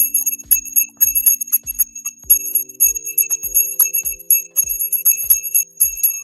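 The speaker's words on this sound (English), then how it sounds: "The bell was 20 minutes ago, but I'll tell you what, just for you, Space Cat." A hand bell rung for a livestream gives a series of bright, clear rings and jingling strikes repeating over several seconds, close and loud with no talk.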